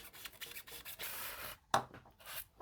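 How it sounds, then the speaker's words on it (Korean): A knife cuts through the middle of a white tungsten jig head body, making soft, close scraping and rasping strokes with one sharper scratch near the end, all quiet and without talk. "중간을 이렇게 자르겠습니다"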